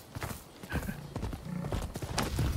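Horse hooves clip-clop in the video game Rise of the Ronin, an uneven run of thuds with a short neigh near the start, fairly faint and alone.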